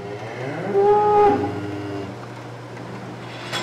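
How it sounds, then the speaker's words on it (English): Cattle on a smart farm moo loudly for food, one drawn-out call rising and falling over a low barn hum, then a quieter stretch with faint background noise. "The cattle are crying loudly for food."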